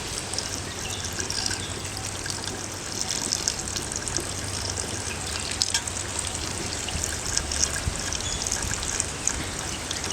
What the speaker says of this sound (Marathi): आता मी यामध्ये घालणार आहे पाणी.